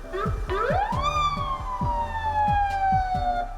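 Ambulance siren in congested city traffic, a close, loud wailing tone that sweeps up and then slowly glides down, over a rumbling stop-and-go engine noise with regular low thumps.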